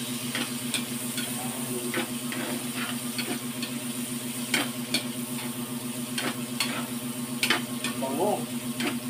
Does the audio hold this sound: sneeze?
no